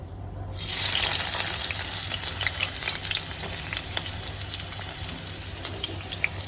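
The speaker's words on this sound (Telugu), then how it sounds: "ఇప్పుడు ఉల్లిపాయలు వేసేద్దాం" Onions hitting hot oil with green masala paste, bursting into a loud, close sizzle that settles into a steady crackling fry with scattered pops and no voices.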